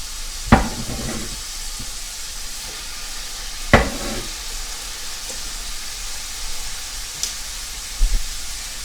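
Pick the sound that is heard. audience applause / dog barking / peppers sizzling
peppers sizzling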